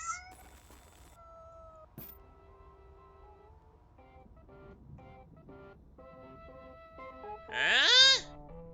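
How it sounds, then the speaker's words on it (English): A kitten in trouble in the Amanda the Adventurer video game lets out one rising, wailing meow near the end, following quiet stretches of scattered electronic tones and notes. "It looks like this kitten is in big trouble."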